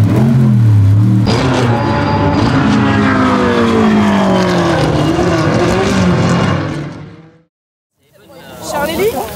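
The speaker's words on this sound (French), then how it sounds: "il va être l'heure d'aller voir les F1 et les protos tourner" Formula 1 and prototype race cars lapping a circuit, a loud high-revving engine howl sweeping past with shifting pitch, fading away into near silence before another car approaches; voices may be faintly present.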